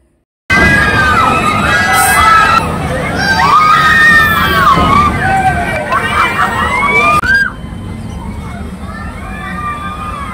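A loud, dense weekend crowd at VGP Universal water park, with children shouting and excited voices overlapping close by, easing slightly toward the end.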